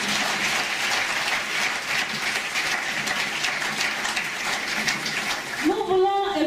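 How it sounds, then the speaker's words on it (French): Sustained applause from a church congregation during a worship gathering, steady and dense across the whole stretch, with a brief voice rising near the end. "Acclamons très fort pour le Seigneur Jésus-Christ"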